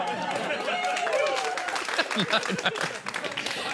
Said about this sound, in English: No. You're not supposed to clap there.